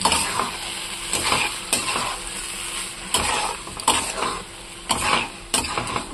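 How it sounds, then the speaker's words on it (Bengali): Dal and spices stir-fried together in a tadka, with a steady close sizzle broken by repeated scraping strokes of a spoon against the pan at an uneven rhythm. "মশলাটাকে এর মধ্যে সুন্দর করে কষাবো।"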